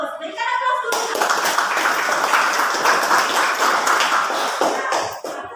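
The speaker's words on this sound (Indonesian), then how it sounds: "Berikan aplaus dulu." A classroom bursts into applause after a short voice, with many hands clapping briskly and steadily for about four seconds before fading out.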